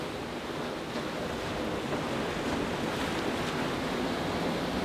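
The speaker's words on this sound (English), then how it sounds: "the waves are kind of dying before it gets to this bit" Ocean waves wash onto the beach at Dunraven Bay, Southerndown, Wales, a steady broad roar of surf with some wind rumble and no breaks.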